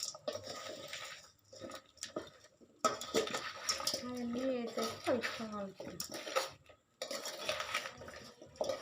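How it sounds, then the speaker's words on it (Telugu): Mango pickle is mixed by hand in a pot, with scraping, stirring and clinking bursts broken by brief pauses while someone talks nearby. "మక్క పచ్చడి కలుపుతోంది."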